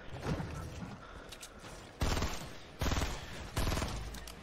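Bursts of rapid automatic gunfire in Fortnite, a video game, three loud sustained volleys after a quieter stretch, close and continuous.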